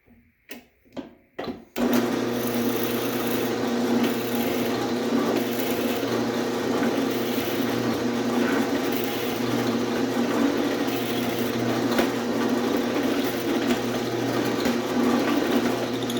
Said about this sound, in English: So now we're ready to drill.